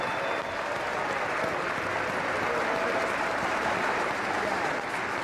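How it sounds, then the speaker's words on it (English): Steady crowd applause continues throughout for athletes taking their seats at a parasport games opening ceremony, a dense, even wash of clapping heard at some distance. "one more round of applause for them"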